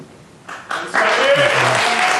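Audience applause breaks out at a 2018 Brazilian presidential election debate and swells into loud, sustained clapping after a quiet start, with a voice speaking over it.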